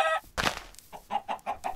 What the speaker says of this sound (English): Oh my god, there's a chicken.